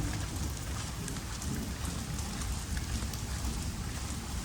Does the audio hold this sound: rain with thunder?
yes